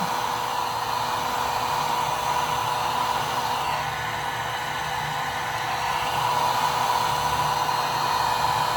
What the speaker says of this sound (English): put it back down, put the heat gun back on it